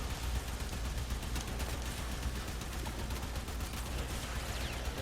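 Continuous explosions and gunfire from a video game during a relic farming run, a dense unbroken roar of blasts and rapid shots that stays loud and steady throughout.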